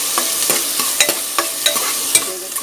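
Chopped onions and whole garam masala fry in a pan, a steady sizzle broken by repeated scraping stirs of a spoon against the pan at a quick, regular rhythm, close and clear with no talking.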